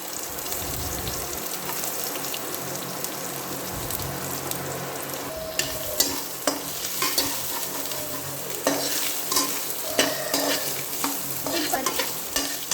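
Onions frying in a pan on low heat, a steady crackling sizzle with repeated scraping and clinking of a spoon as they are stirred, close up and without speech.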